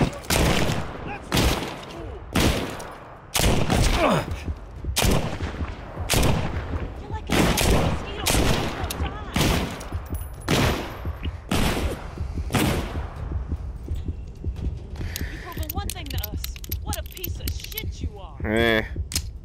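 A gun fired in the VR video game The Walking Dead: Saints & Sinners, with loud, close shots cracking in a steady series roughly every second and mechanical clicks in between, while a voice talks.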